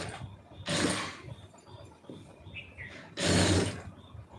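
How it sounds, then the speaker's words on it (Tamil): A sewing machine stitches a shoulder seam in two short, loud whirring bursts with a quiet pause between them, and no talking. "ஷோல்டர் வந்து எந்த பக்கம் வந்திருக்கோ அதை வச்சு தைச்சிருங்க"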